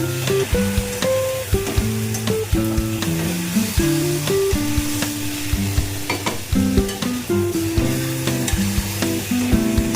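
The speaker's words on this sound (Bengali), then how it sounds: "এইবার আমি দিয়ে দেবো চিকেন ম্যারিনেট করা চিকেনটা। এবার একটু নাড়তে থাকবো।" Marinated chicken sizzling in a hot pan while being stirred, a continuous loud fry with repeated scraping strokes and a steady tonal hum underneath.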